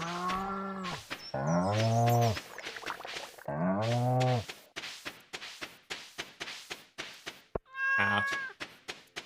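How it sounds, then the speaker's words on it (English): Cartoonish cat meows from the video game Stardew Valley, several drawn-out mews in a row, then a run of short clicky game sounds and one last meow, loud and close with no talking. "Cat."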